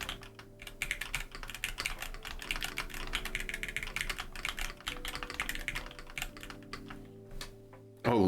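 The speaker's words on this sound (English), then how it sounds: "it sounds a lot different from my old keyboard" Steady, continuous clacking of a loud computer keyboard being typed on, close and dense with rapid keystrokes, over a faint background hum of tonal music or game sound.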